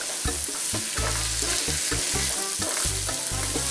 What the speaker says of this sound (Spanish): vamos a ponerle el jitomate. Y seguimos revolviendo.